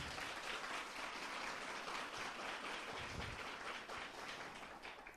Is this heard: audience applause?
yes